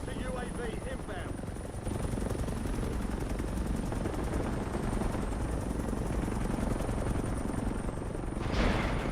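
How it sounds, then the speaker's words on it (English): A helicopter's steady whirring thrum from a video game, with rotor chop throughout and bursts of distant gunfire mixed in. "This fucking helicopter's so happy."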